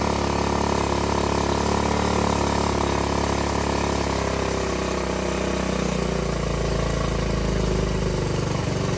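A dirtbike engine idles loud and steady up close while its air/fuel screw is turned, the drone holding even with the pitch creeping upward as the idle rises, no talking.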